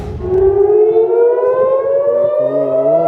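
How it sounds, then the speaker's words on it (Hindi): Air raid sirens wailing across Tel Aviv, a loud sustained civil defense tone rising slowly in pitch, with a second siren layered in near the end. "हर तरफ सायरन सुनाई दे रहे हैं।"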